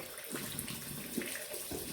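Hot water runs steadily from a tap through the pipes of a house on acreage, a close, even hiss and splash with small gurgling bursts.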